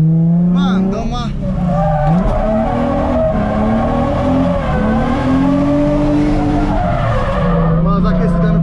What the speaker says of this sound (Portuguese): Só tô dando uma aquecida no pneu. Dando uma volta aí de aquecimento.